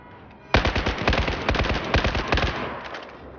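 Rapid automatic gunfire bursts in the video game Battlefield 4, played on a low-end PC, crackling loudly in several quick volleys for about two seconds before trailing into a quieter rumble.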